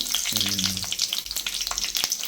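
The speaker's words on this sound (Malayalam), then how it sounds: "കയ്യളവിൽ നമ്മൾ കുറച്ച് കടുക് ഇട്ടിട്ടുണ്ട്" Mustard seeds sizzle and pop in hot oil in a pan for a fish curry, a steady bright frying hiss with scattered crackles and a brief low tone near the start.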